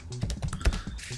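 Quick, close keystrokes on a computer keyboard while coding a Bootstrap 4 and PHP search form, a short burst of irregular clicks and taps with no talking.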